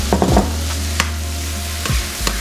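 White corn being stirred into a hot pan of sizzling linguiça sausage with jalapeño, a steady close sizzle broken by a few scraping stirs of a spoon, with no voices.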